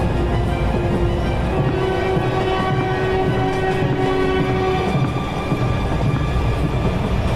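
A train passing in a cartoon: a steady, loud rumble of rolling wagons, with a sustained horn tone sounding for several seconds before it fades while the rumble continues.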